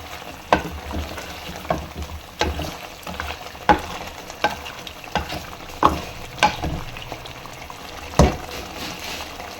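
Chicken karahi sautéing in a pan for a white creamy karahi: a steady low sizzle with a dozen or so distinct scraping stirs at irregular intervals, close and fairly quiet, nobody speaking.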